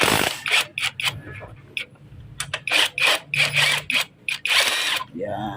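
A wrench unbolts the exhaust on a Kawasaki HD3 motorcycle, with repeated short bursts of ratcheting and clicking separated by brief pauses, close and fairly loud, while someone speaks briefly.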